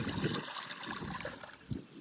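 Water running into a pigeon trough, a steady trickling stream with a few louder splashy surges near the start and end, heard alone at close range.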